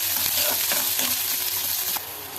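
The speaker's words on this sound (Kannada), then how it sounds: "ಉಳ್ಳಾಗಡ್ಡೆ ಸ್ವಲ್ಪ ಚೆನ್ನಾಗಿ ಕೆಂಪಾಗೋಂತ ಹುರ್ಕೋಬೇಕು." Onions fry in a pan for a sprouted green gram palya, giving a loud, close, steady sizzle with a few stirring scrapes, and no talking.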